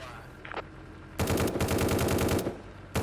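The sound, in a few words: gun firing rounds in A Terrible Place VR video game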